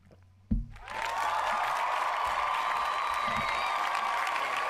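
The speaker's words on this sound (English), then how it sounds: "Oh, extended applause." Applause from a studio audience swells in after a sharp thump and holds steady as a continuous, moderately loud wash of clapping with a faint tonal hum beneath.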